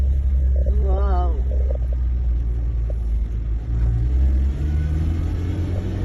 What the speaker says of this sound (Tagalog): Medyo naiyak na yung makina dyan ng ating Toyota Light Ace